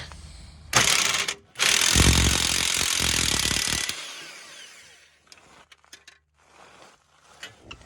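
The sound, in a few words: cheap impact gun loosening bolts on a Mazda 6 catalytic converter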